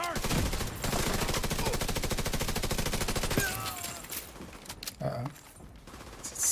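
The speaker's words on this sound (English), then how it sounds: "Sniper rounds coming my way." Rapid gunfire in The Division, a dense run of sharp cracking shots for several seconds, then scattered louder reports and game noise as the firing breaks off.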